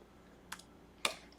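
Two quiet, sharp keystrokes on a computer keyboard, spaced about half a second apart, with a third beginning at the end, against faint room noise.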